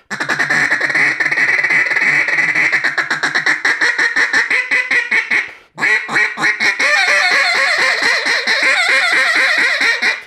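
Blown close and loud, a duck call mimics a squealing hen mallard in a long, rapid string of raspy quacks, pausing once at the midpoint before the run resumes.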